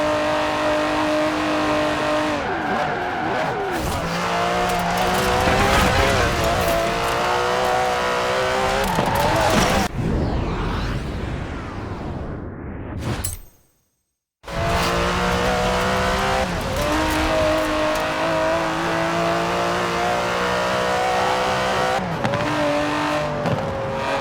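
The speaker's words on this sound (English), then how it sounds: "The DB11 is not the fastest car in the world, but then it's not trying to be." An Aston Martin DB11 in Forza Horizon 4 roars through a race with loud revving engine, gear shifts and tire squeal, cutting briefly to silence before the engine returns at full throttle.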